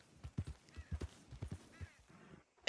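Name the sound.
horse hooves, video game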